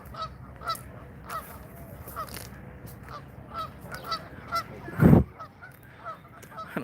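Geese honk repeatedly in a loose, overlapping chorus at moderate distance, with one louder burst of honking near the end.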